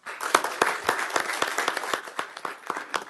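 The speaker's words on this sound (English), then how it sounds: "let us give you a big round of applause" A small crowd at a school board meeting gives a round of applause, a brief burst of many hands clapping irregularly, near and lively, fading slightly toward the end.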